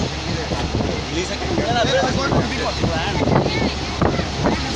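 Steady rumble of a boat under way on the Ganges with rushing water and wind buffeting the microphone, voices talking faintly over the noise.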